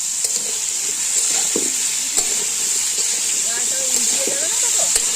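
Cabbage and home-grown potatoes sizzle and hiss steadily in a pan over a wood fire outdoors, with scattered scraping stirs and faint voices in the background.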